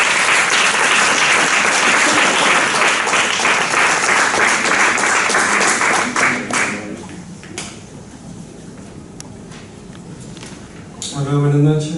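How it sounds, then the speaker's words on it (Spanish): Steady, hearty applause from a poetry competition audience in Valencia fills roughly six seconds, then tapers to sparse claps and shuffling before someone starts talking close to the microphone. "Un fuerte aplauso"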